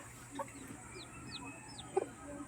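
Newly hatched chicks peep in a few thin, high chirps near a hen, which gives low clucks, all faint against a quiet background.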